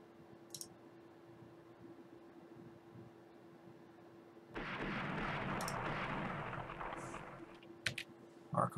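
Naval guns from enemy dreadnoughts in the Rule the Waves naval game, a few distant muffled booms followed by a sustained heavy rumble of gunfire and several sharper late reports over a low hum.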